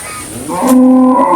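A Jersey cow with her calf lets out one loud, close moo that rises and holds as a long tonal low, standing alone without voices.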